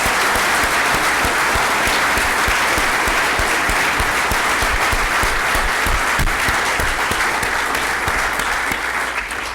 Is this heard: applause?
yes